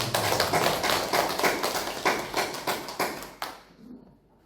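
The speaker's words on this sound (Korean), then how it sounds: "우리 다시 한 번 더 하나님께 감사의 박수로 우리 백사모님에게 감사의" A church congregation at a Sunday praise service claps in thanks, a roomy, rhythmic pattering of many hands that swells in steady beats and then fades out to quiet.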